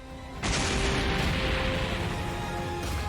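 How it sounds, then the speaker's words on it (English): An explosion from Dragon Ball animation bursts in suddenly after a brief quiet moment, then holds as a sustained, dense roaring blast with a steady hum underneath, with no talking. "The explosion isn't lost on Dende."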